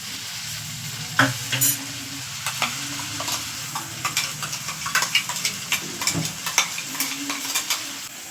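Spices tipped into a hot pan fry and sizzle in a steady hiss, with a spoon stirring and scraping against the pan in irregular knocks, close by and without talk.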